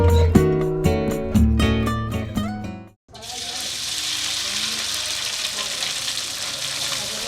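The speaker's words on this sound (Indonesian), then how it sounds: "adonan isian yang terdiri dari bumbu rempah serta ikan asap yang telah aku haluskan tadi ditumis hingga adonan harum dan matang" A spiced smoked-fish filling for stuffed bitter gourd sautés in a pan after the music ends, giving a steady, even sizzle and hiss that carries on without a break for several seconds.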